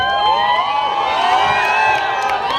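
A college crowd at a JNU Delhi talent show cheers loudly, with overlapping shouts, whoops and high yells rising and falling together in a continuous noisy wave.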